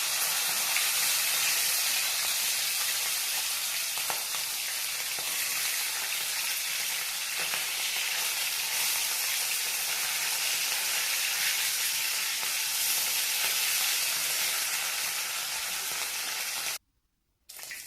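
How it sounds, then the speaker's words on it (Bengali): Rohu fish pieces frying in hot oil in a kadai, a dense, loud, unbroken hissing sizzle held close for most of the stretch before cutting off briefly near the end, with no speech. "কড়াই গরম করে তেল দিয়ে মাছগুলোকে দিয়ে দেবো"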